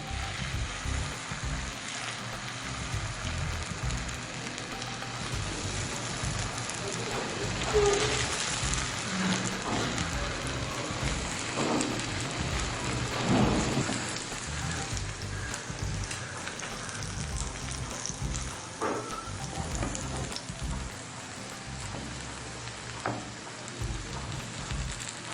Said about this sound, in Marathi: तेल पण तापले, त्याच्यामध्ये आता आपण ऑमलेट घालू